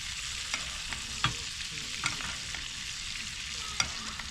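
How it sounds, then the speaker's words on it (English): Butter sizzling and spitting in a pan as a steak is basted with thyme and garlic, cooked outdoors in an ancient Roman amphitheatre; a steady close fry with a few sharp scrapes and spoon taps, no talking. "we're just going to baste that butter over on the steak."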